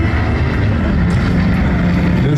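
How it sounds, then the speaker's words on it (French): A 1930s German Junkers Ju-52 flies at the La Ferté-Alais air show, a loud, steady propeller drone with a broad engine rumble that holds throughout. "Le Ju-52, Tanju, était donc un avion fabriqué par la firme allemande Junker dans les années 30"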